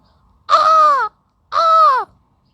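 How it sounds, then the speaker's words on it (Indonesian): Two loud, harsh caws from a crow, each about half a second long, separated by a short pause. "burung gagak"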